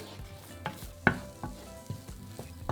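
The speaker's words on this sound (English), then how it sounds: "Add in a large onion that's been diced and fry gently for a couple of minutes until the onions start to go" Diced onion frying gently in olive oil in a frying pan, a soft low sizzle punctuated by several quiet knocks and scrapes from stirring, with no talking.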